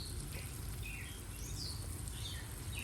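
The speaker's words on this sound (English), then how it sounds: "the birds are active in the morning. You hear them." Several birds chirp and call in short high bursts across a backyard at dawn, faint and scattered over a steady low rumble and insect-like hiss, no voices.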